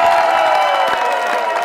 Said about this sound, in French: ça va me demander les applaudissements de la foule